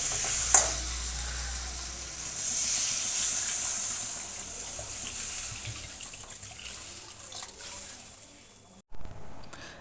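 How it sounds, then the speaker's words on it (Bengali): Water poured into a pan of small winter potatoes and spices, a steady hissing pour that gradually fades, then a brief clunk near the end. "এবার আমি এতে পরিমাণ মতো জল দিয়ে দেবো"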